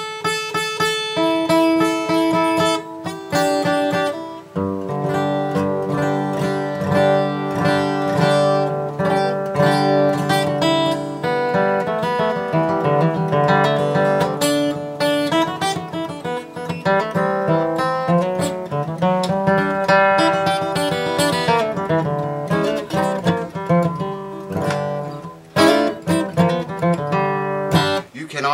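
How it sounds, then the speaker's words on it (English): An acoustic guitar with very rusty strings is strummed and picked continuously, its bright, dense tone carrying a buzzing, sitar-like edge, close and loud for nearly half a minute. "Hear that sitar sound?"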